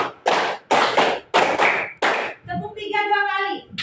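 Children in an Indonesian classroom clapping game, four loud sharp bursts of hand claps in quick succession, followed by a sustained tonal voice as a group responds.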